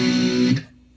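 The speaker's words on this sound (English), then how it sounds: "we're going to play the chord again without a palm mute" A single distorted electric guitar chord rings out without palm muting, loud and close, then cut off after about half a second, from a riff.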